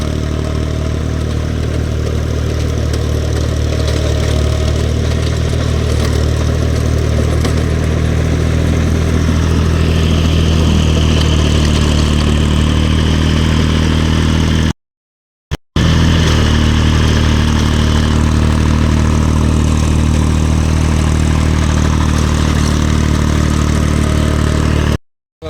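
A tractor with a rotary tiller runs steadily while clearing overgrown grass in a plantation, its loud, close engine droning with a constant low rumble and a short dropout near the end.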